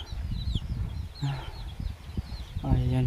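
Chickens cluck and call intermittently in the near background on a quiet farm path while someone talks over them outdoors.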